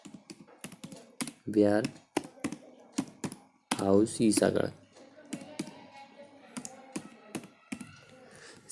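Keys clack in quick, irregular bursts on a computer keyboard as a man fills in an MP e-uparjan online registration form for wheat and gram procurement, with his voice talking between and over the typing.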